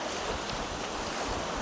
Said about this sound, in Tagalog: Ito na guys, tatawid na kami sa ilog oh.